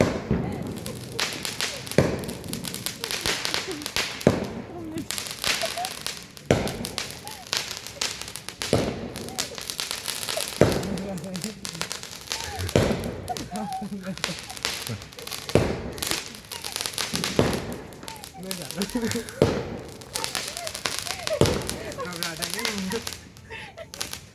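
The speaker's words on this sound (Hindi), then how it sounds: "आज भी हम लोगों ने थोड़े बहुत पटाखे छोड़े हैं भाई दूज के उपलक्ष्य पर।" Firecrackers set off outdoors for Bhai Dooj, a long run of sharp loud bangs and thumps at irregular intervals, some in quick bursts, with voices talking around them.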